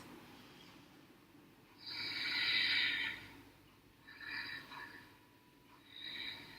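Slow, deep yoga breaths during an at-home practice: three long, airy exhalations and inhalations rise and fall in turn, close and soft, with quiet pauses between.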